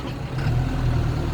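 CAT D5 bulldozer engine rumbling low and steady while the machine moves forward and backward, a heavy diesel drone close by with slight swells in loudness over a brief moment.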